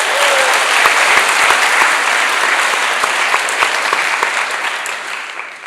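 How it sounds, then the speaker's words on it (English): An audience claps loudly and densely after a presentation, a full sustained burst of applause that gradually thins and softens toward the end. "Can you please join us in giving them another round of applause?"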